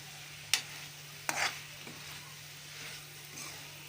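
Masala being stirred and mixed in a pan, two sharp scrapes of a spoon against the pan followed by a faint continuous sizzle and quieter stirring.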